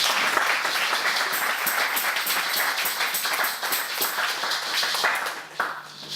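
A church congregation applauds Jesus during a service, sustained, dense clapping that stays loud and steady throughout, with a slight dip near the end.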